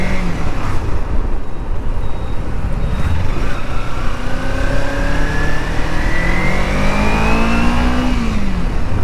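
A well-maintained 2013 Kawasaki Ninja motorcycle accelerates hard, its engine note climbing steadily in pitch over several seconds, loud and close, with a constant roar of road and wind noise and no talking.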